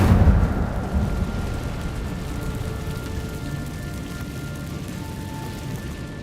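An Incendio fire spell cast in Hogwarts Legacy inside a cave, a loud whooshing burst that quickly settles into a sustained crackling, rushing roar of flame.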